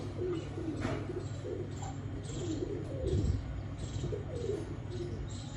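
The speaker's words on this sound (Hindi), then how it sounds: "पुराने सियालकोटी कबूतर हैं ये।" Old Sialkoti pigeons coo softly and repeatedly over a steady low background hum, with occasional faint chirps mixed in.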